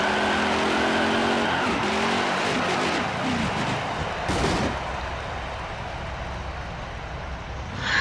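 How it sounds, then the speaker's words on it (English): Race car tire burnouts in the NASCAR Heat 5 video game at Chicagoland, a sustained loud roar of engines with screeching tires, continuous and close. "And the burnouts have begun here from Chicagoland."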